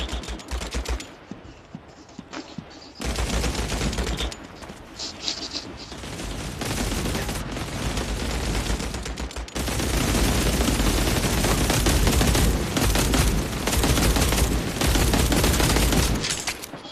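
Rapid gunfire from a World War 2 shooter video game, with scattered shots at first, then dense sustained bursts of automatic fire that grow louder and nearly continuous toward the end.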